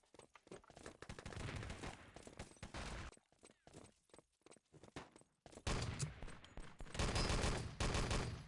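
Rapid automatic gunfire in the competitive shooter Enemy Territory, bursts of close, loud shots separated by brief gaps, then a long dense volley building toward the end.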